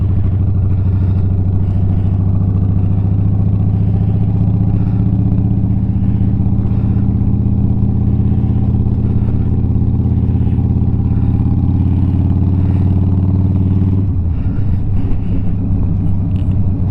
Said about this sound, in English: someone please comment if my exhaust is too loud